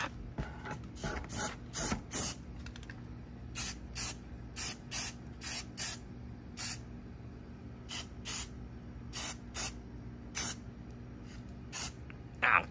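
Repeated short bursts of spray paint hiss as primer is applied to a Tesla Model 3 during body work, about a dozen crisp blasts in an uneven rhythm, close and fairly loud with no talking.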